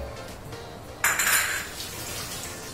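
Fish pieces go into a pot for a vatta meen curry, with a single sharp clink of metal and a brief wet splash standing out from quiet kitchen background, no speech.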